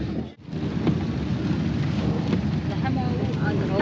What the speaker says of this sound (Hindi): अभी बारिश रुक गई है उधर, थोड़ी रुक गई है ना, हल्की हो गई है बारिश।